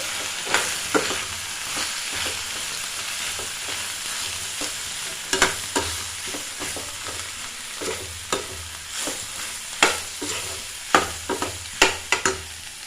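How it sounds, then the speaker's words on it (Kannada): Sambar powder frying in a pan for bitter gourd gojju, a steady close sizzle broken by repeated scraping stirs that grow more frequent toward the end, with no voices. "ಸಾಂಬಾರು ಪುಡಿ ಹಾಕ್ತೀನಿ ಮತ್ತೆ ಸ್ವಲ್ಪ ಫ್ರೈ ಮಾಡ್ಕೋಬೇಕು"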